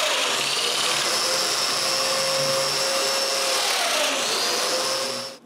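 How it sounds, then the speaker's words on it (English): A power drill bores holes for domino joints in wooden parts of a small writing desk, giving a steady, loud, close whine that winds down briefly at the end. "and then I drill."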